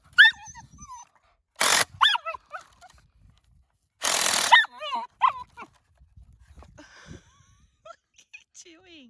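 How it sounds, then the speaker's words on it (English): Zelda the dog gives sharp, excited barks and whimpering yips in short bursts, interrupted by loud power-drill whirs, with someone talking in between. "every time I use the drill, Zelda goes crazy barking"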